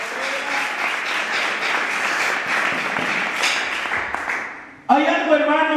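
Congregation applause for the King during a Spanish-language church service with a pastor, a dense, sustained wash of clapping from many hands that cuts off near the end as a voice resumes.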